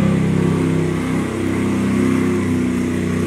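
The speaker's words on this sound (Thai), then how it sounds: "เสียงเรือมา" A boat's engine passes close by, producing a loud, steady, throbbing drone that fills the whole stretch with only a slight dip midway.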